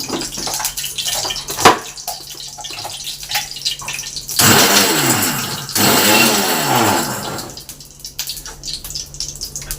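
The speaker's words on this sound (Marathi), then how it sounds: "मी हे मिक्सरला लावून वांग्यामध्ये टाकणार आहे" A kitchen mixer grinder whirs loudly in two strong bursts as it powders dried shrimp, each spinning up and cutting off sharply, with quieter clattering and handling sounds before and after.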